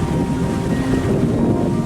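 A sailboat running with the wind from behind on a calm ocean in a sustained 15-knot breeze with one-metre waves, giving a loud, steady rush of wind and water.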